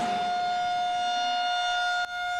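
An outdoor tornado warning siren holds one steady, loud wail with bright overtones, then cuts off abruptly near the end.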